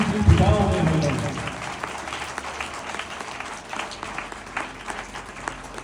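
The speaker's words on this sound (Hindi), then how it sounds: "अरे आज तालियां वो बजाए जिनकी भुजाओं में है दम" Applause rises at a farewell gathering for a respected elder, a voice briefly over the start, then a steady, moderately loud patter of clapping that continues to the end.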